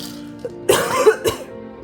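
A young woman gives a few sharp, close coughs in a quiet room, two main bursts with a smaller one before them.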